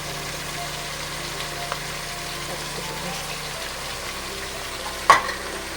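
Meat seasoned with pepper, marjoram, allspice, bay leaf and salt is stirred in a pan, giving a quiet, even sizzle and low hum, then one sharp utensil clack near the end.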